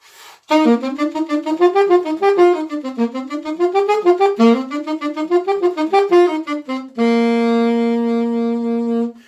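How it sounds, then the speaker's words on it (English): A solo saxophone plays a flowing classical melody with rising and falling phrases, ending on a long sustained note; close and clear, no voices. "You could also play some classical music on the saxophone"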